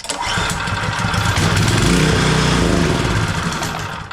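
A small Murray pressure washer engine, running only on carburetor cleaner, roars steadily and loudly close by, holding a rough, buzzing drone without a break for the whole stretch.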